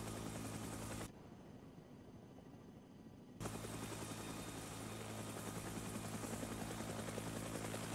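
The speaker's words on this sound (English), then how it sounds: "Did Hobbit say he had eyes on the helicopter already?" Helicopter rotor and engine drone in the Vietnam-era military game Arma 3 SOG, a steady loud hum that drops away briefly then returns at full strength and holds.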